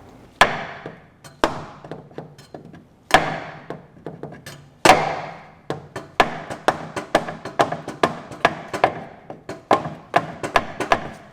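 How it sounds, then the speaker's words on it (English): A rubber mallet taps a passenger-side car axle on a Dodge Grand Caravan, a series of sharp, close knocks, spaced at first, then coming quicker and more regularly, with no voices. "So next we need to give this a few taps. It's best to use a rubber mallet first of all"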